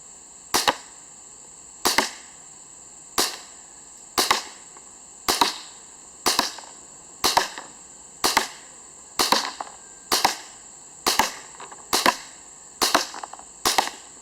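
A KJW/ASG CZ P09 gas blowback airsoft pistol fires about a dozen sharp, evenly spaced shots outdoors, each a crisp snap with a brief metallic slide clack, with no talk.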